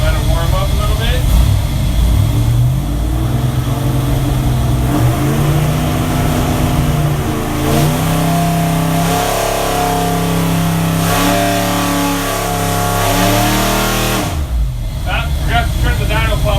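A Ford Motorsport 401 cubic-inch aluminum boosted engine by CHP revs on a dyno, a loud continuous roar whose pitch climbs and falls through several sweeps before a sudden drop near the end, with voices occasionally under it.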